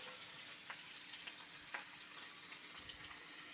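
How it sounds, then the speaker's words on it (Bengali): Dried red chillies sizzle faintly in hot oil in a home kitchen, a steady soft crackle with a few brief pops throughout. "এই যে শুকনো লঙ্কাগুলি আমি তেলে দিচ্ছি"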